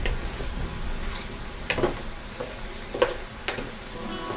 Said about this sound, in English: Mix it thoroughly.